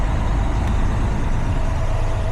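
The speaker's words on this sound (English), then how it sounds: "This truck is a little bit louder than my Volvo" Cab interior of a local fuel hauler truck, with a steady, loud engine drone and low rumble running unbroken throughout, no talking.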